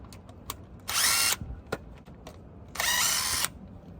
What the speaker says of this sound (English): I'm actually gonna use my power tool to get them out of there.